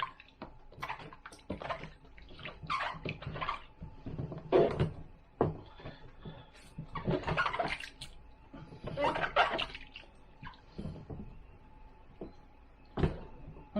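A squash rinsed in water while worm beds are prepared, producing several short, close splashes and sloshes in uneven bursts with brief quiet gaps between them.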